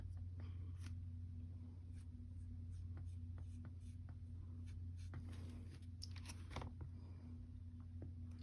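Stampin' Blends alcohol marker in Dark Old Olive coloring around edges on cardstock, faint soft scratchy strokes and light taps scattered over a steady low electrical hum.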